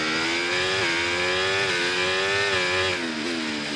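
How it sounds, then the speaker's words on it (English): F1 cars in the F1 24 game, including a McLaren on soft tyres, scream at high revs close by. The engine note rises and dips through gear changes, loud and continuous with no talking. "Piastri is coming in his McLaren right now on those soft tyres"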